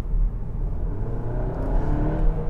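A Seat Ateca 2.0 TSI 190 HP from 2022 accelerates hard on kickdown, with a low, steady engine drone rising slightly in pitch, heard from inside the car with no talk.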